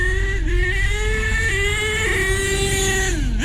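A nitro RC car engine screams at high pitch and revs up, with brief dips as it shifts through all three gears, loud and continuous.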